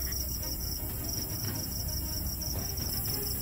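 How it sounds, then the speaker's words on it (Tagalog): Crickets chirp at night outside a rural hut in a steady, unbroken high trill that fills the whole stretch, with faint low rumble underneath. "Puro kuliglig po ang narinig natin."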